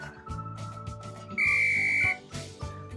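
A single clear, loud whistled note holds for under a second over upbeat workout background music.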